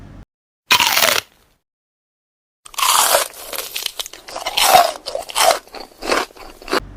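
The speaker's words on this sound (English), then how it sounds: "it's time to get a bag of crisps" Crisps are eaten straight from the bag: one sharp crunch, a short silence, then a run of close, loud, irregular crunching and chewing with no voices.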